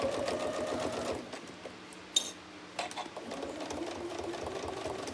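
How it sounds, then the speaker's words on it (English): A sewing machine stitches around the edge of a trapunto cushion through thick layered fabric, running in a steady rapid whir, pausing briefly with a couple of clicks, then resuming more slowly. "now what I'm going to do is I'm going to stitch around the edge"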